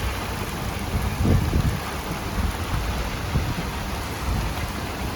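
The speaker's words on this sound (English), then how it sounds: "raging storm behind us, blue skies in front of us" A raging thunderstorm over a Florida swamp among pine trees, heard as a loud, dense wash of rain with low rumbling swells rising and falling, steady throughout with no voices.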